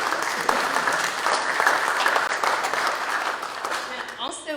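A church congregation applauds during a Sunday service, steady sustained clapping from many hands filling the room, with a voice briefly audible near the end.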